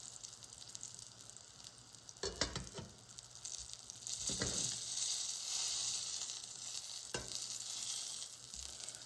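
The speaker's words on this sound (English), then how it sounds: "We're gonna cook each side at least 3 or 4 minutes and make sure the meat in the inside is well cooked" Chinese meat pie frying in a pan gives off a bright, continuous hissing sizzle that swells louder midway, punctuated by a few sharp clatters of a utensil, close and without talk.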